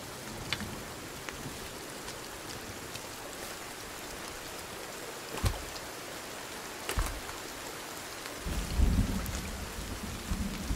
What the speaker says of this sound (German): es gewittert gleich